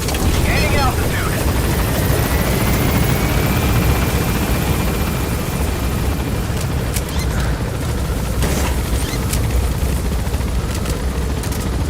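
An extraction helicopter in Metal Gear Solid V roars close and loud with a constant rotor drone and engine whine, while a voice speaks over it.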